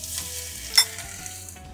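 Squid dish ingredients and fresh oil sizzling and frying in a wok as stir-frying begins, a steady close hiss with a brief louder spatter burst partway through.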